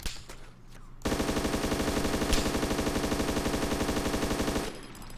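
Automatic gunfire in DayZ rattles off in a long, rapid, evenly spaced burst of close, loud shots lasting several seconds, stopping abruptly.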